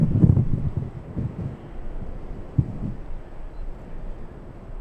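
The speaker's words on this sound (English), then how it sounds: "the winds are definitely increasing" Gusty wind blows across the microphone at Los Angeles airport, making a low rumbling buffet with stronger bursts at the start and near the middle, steady and close.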